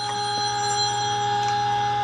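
A telephone bell rings steadily and fairly loud for the whole stretch, a sustained bright electric ring with a constant tone and no pauses, heard alone without any talk.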